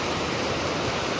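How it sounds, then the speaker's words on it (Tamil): A fast river flows beside the Mampazhathara to Chembanaruvi forest road in Kerala, a loud, close, unbroken rush of water with no voices. "மாம்பழத்தரை டு செம்பனருவி ரோட்டில் இருக்கிற ஒரு ஆறு. செம்மையாக தண்ணி போகுது."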